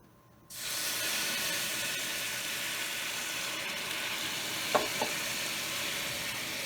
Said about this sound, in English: when I add water to it, it's going to really sizzle.